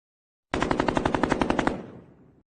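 A loud burst of automatic gunfire, about a dozen rapid evenly spaced shots, then a fading echo that trails off for nearly a second.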